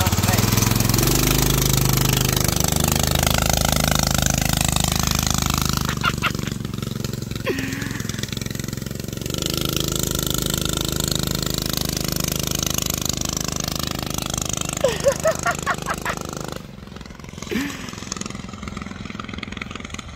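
A 212 cc engine fitted to a pedal bicycle runs loud and close, rattling and revving with a rough, choppy drone that rises and drops in bursts, while people talk over it.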